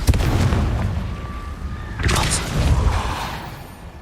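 Spell explosions from Confringo in the Hogwarts Legacy video game, loud booming blasts with crackling bursts, one near the start and another around the midpoint, fading into a rumbling tail.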